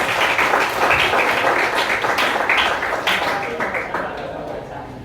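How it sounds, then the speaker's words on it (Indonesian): A classroom audience claps for a student, a steady patter of hand claps that fades gradually toward the end. "Beri tepuk tangan dong untuk Mas"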